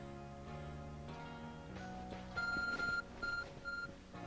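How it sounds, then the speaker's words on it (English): A phone in Pokemon Legends Arceus gives a series of short, bright electronic beeps, two longer tones then quicker pulses, sounding over soft game music. "The phone is beeping."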